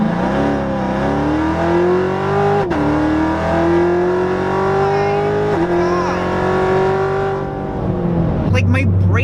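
A supercharged 2016 Lingenfelter C7 Corvette Z06 tuned to 720 hp accelerates hard from a dig, its engine note climbing steadily and loud through long gear pulls, ending with a brief lift and speech at the end.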